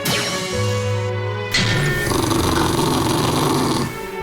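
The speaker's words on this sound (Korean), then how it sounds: "갑자기 으르렁거리는 마요." A dog growls low and continuously, rumbling for several seconds with a rougher, louder stretch partway through, close to the microphone.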